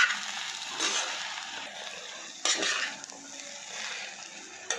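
Cooked rice being stirred and mixed in a pan with chilli powder, a soft steady scraping and light sizzle with a few louder clinks of the spoon against the pan, no talking.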